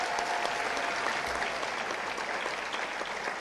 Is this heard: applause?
yes